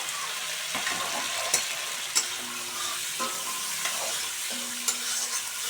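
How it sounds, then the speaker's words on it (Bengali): Chopped onions sizzle steadily in a pan until browned, with a few sharp clicks and scrapes of stirring scattered throughout; no talking. "আমি পেঁয়াজটা লাল লাল করে ভেজে নেব।"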